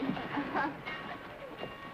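Train sounds with faint whistle-like tones fill a station as a train prepares to leave in a 1946 film scene, with voices speaking over them.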